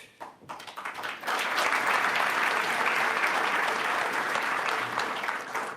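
Conference audience at EUCAD 2025 breaking into loud, sustained applause that builds quickly after a brief start and fills the room steadily with many hands clapping.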